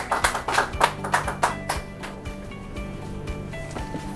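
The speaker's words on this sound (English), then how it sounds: "Give her a round of applause." A short round of applause at a hospital press conference, a brisk burst of claps for about two seconds that thins out into quiet room tone.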